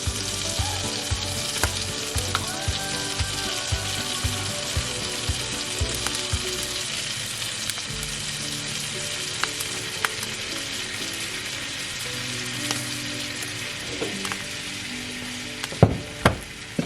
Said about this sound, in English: now we're going to stir in 5 tablespoons of all-purpose flour.